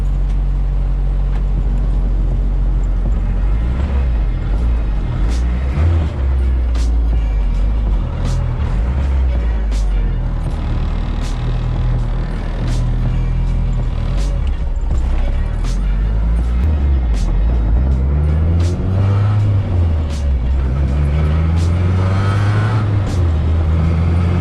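A Honda EG Civic with a B18 engine swap drones steadily from inside the cabin while driving, its engine note rising and falling through gear changes over road rumble, continuous and close.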